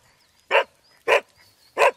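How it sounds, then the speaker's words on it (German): A dog barks three times at roughly half-second intervals, each bark loud, sharp and close, with near silence between them. "wie spricht der Hund?"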